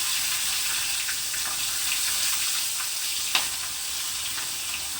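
Green chillies frying in oil in a pan for a taro and egg curry, giving a loud continuous hiss and sizzle with a single brief clink partway through.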